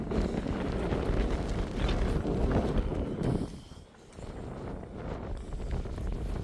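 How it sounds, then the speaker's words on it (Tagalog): Loud, steady wind buffeting the microphone for a few seconds, briefly dropping off before gusting back up. "Ay, grabe ang hangin."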